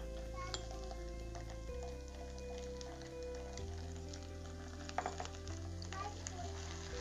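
Ginger garlic paste frying in a pan with golden brown onions, a soft continuous sizzle with occasional spoon clinks while stirring, faint and close.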